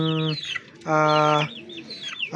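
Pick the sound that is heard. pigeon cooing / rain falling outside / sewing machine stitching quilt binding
pigeon cooing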